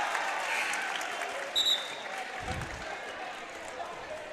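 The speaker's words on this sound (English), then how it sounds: "You can tell that the Roosevelt crowd is very invested in the games." A Roosevelt boys basketball home crowd roars in reaction to a travelling call, a steady, dense wash of cheering and applause that holds for several seconds with a brief thump partway through, and voices mixed into the din.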